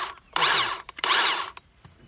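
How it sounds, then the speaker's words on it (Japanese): Makita electric chainsaw revving in two loud bursts of about half a second each, with short gaps and clicks between, running outdoors in front of a house before cutting a green cherry log. "この電気チェーンソーを使います"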